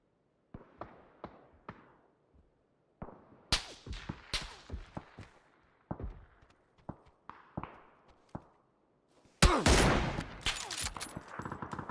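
Rapid bursts of gunfire in the video game PUBG on the Miramar map crackle in scattered volleys, building to a dense, loud barrage of sustained shooting near the end.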